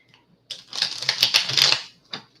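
Tarot cards riffled in a shuffle: a dense burst of crisp, rapid paper flicks lasting over a second, close and fairly loud, followed by a brief single snap of cards settling.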